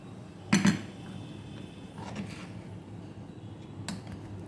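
Ladle and metal pot clanking while hot sambar for pongal is served into a bowl, one loud close clink followed by softer scattered scrapes and taps.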